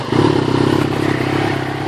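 A Yamaha XJ6 motorcycle fitted with an upgraded exhaust runs at a close, loud, steady idle, its engine pulsing rhythmically for under two seconds.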